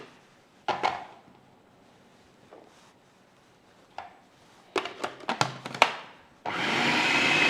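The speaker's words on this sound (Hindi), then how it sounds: "इसको हम यहाँ चॉपर में डाल के चॉप कर लेंगे" An electric chopper grinds bread slices for shahi tukray, a milk-and-bread dessert, in short loud whirring bursts separated by quiet gaps, ending in a longer sustained run.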